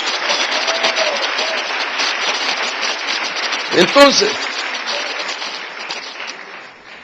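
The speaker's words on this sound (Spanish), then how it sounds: "Dele palmas al Señor de la gloria." A church congregation claps during a sermon, dense sustained applause with a brief spoken word and a sharp knock near the middle before the clapping tapers off toward the end.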